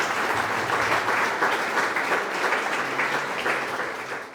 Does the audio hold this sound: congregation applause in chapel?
yes